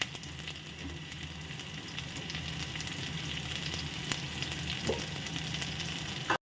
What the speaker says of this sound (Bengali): সরষের তেলটা গরম হয়ে গেছে বন্ধুরা। তো এর মধ্যে আমি দিয়ে দেবো পেঁয়াজ, আদা, লঙ্কা কুচানো